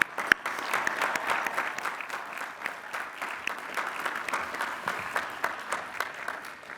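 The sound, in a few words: commencement audience applause for degree recipients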